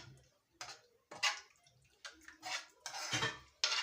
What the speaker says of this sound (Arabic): غادي نحرك هاد الشرموله مزيان